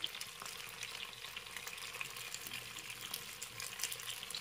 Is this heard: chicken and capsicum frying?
yes